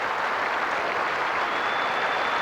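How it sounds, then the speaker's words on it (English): Crowd at a 1988 Sheffield Shield Grand Final cricket match in Australia applauding the West Australian captain's innings, a steady, broad wash of clapping from a large stadium audience. "the crowd rises as one to applaud this magnificent innings by the West Australian captain"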